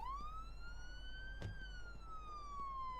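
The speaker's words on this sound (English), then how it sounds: "I'm going to turn these sirens off before I do anything" A video game police car siren wails steadily throughout, its tone rising slowly then falling, with a low engine rumble underneath and a brief knock midway.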